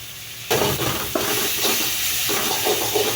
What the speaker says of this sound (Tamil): தக்காளி சேர்த்து நன்றாக வதக்க வேண்டும்.